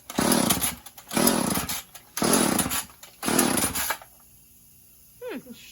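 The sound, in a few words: Stihl or Husqvarna chainsaw being started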